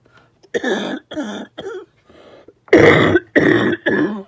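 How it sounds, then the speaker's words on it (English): A series of harsh, rough coughs and throat-clearing bursts, close and loud, with two quieter ones before a strong final run of three. "Can't get rid of this cough."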